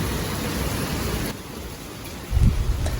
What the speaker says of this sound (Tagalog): Heavy sa rain.